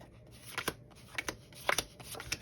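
Playing cards for a hockey board game are shuffled and dealt close by in a quiet room, giving a string of soft, papery flicks and snaps in quick irregular bursts.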